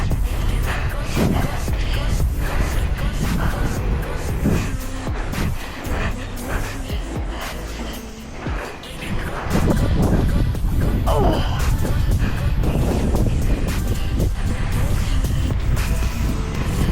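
Strong wind buffets the microphone in a loud, continuous roar with rumbling gusts throughout, at a bike park in Myjava.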